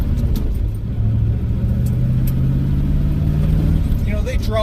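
Low, bassy rumble of a car exhaust fitted with Magnaflow mufflers, a steady droning tone held for several seconds, loud and close, with a brief burst of talk near the end.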